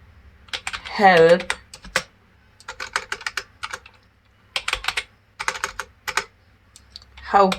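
Rapid typing on a computer keyboard while writing HTML code, several bursts of quick clicking keystrokes separated by short pauses, with someone speaking in parts.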